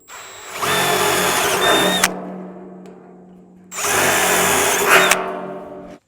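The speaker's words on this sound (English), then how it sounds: "So now we got our 7/32 bit in. We're going to go ahead and do all the ones on the top." Power drill boring 7/32-inch holes in the steel drum of a Super 55 drum smoker, two loud sustained whining bursts of about one and a half seconds each separated by a short pause, with no talk.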